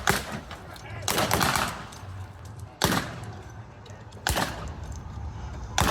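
A Bren light machine gun fires at a WWII re-enactment outdoors, in several loud, sharp short bursts with quieter stretches of crackling between them.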